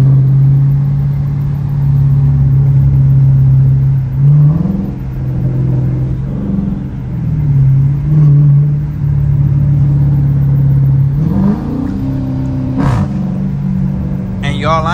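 A Dodge Challenger R/T engine in sport mode drones loudly and steadily from inside the car while cruising, swelling into several revving surges and shifts, with someone talking over it.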